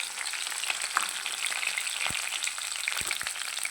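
Ginger, curry leaves and green chillies frying in hot oil for a curry leaf pickle give a steady close sizzle with faint crackles and a few soft stirring knocks, no voices.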